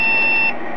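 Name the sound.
Award BIOS single long error beep from a computer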